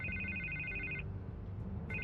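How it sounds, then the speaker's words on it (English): A telephone rings in Batman: The Telltale Series video game: a quiet electronic trill rings for about a second, pauses, then starts again over a low background hum. "I can't get the phone to stop ringing."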